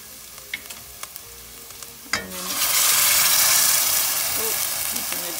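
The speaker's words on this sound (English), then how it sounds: "I'm gonna add the sauce in here." Tomato sauce poured into a sizzling pan while making eggplant parmigiana, a sudden clatter then a loud, steady frying hiss that swells and holds close up, with light clinks before it.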